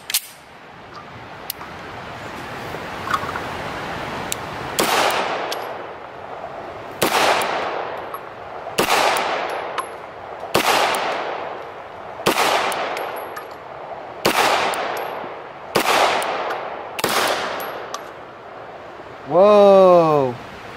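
A Beretta 92S handgun fired outdoors, about nine sharp single shots spaced roughly two seconds apart, each loud with a trailing echo, ending with a louder burst of sound.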